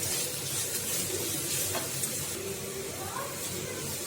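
Grated carrot and beetroot stir-fry with onion for a beetroot and carrot poriyal, giving a dense, continuous hiss and sizzle with faint scraping of the spatula throughout.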